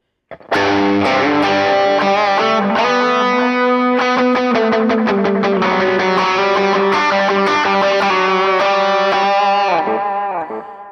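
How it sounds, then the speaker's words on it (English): An electric guitar through an Aspen One overdrive pedal at a low gain setting plays chords and riffs continuously, with a crunchy, overdriven tone ringing out loud and close, fading slightly at the end. "Great distortion sound, even at this low gain setting."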